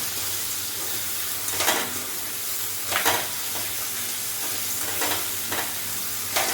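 Chilli chicken fries in a pan with a constant loud sizzle, while periodic stirring strokes add brief scraping surges every second or so.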